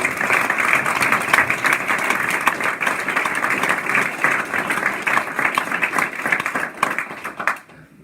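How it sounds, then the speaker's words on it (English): An audience stands and applauds a group of World War II veterans at a VFW program, loud, dense clapping from a crowd in a hall that holds steady before tapering off at the end. "please rise and give applause to this group of men here."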